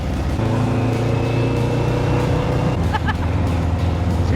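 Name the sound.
sand rail engine accelerating in second gear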